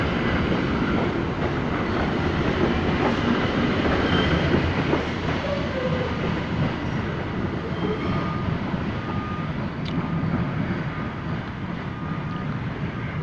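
A Pittsburgh T light rail train rolls through South Hills Junction, a steady rumble of wheels on track with faint clicks and wind noise, continuous and fairly close, with no voices.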